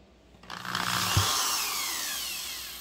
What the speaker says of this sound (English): Get a drill, okay? Get the very, very small drill bit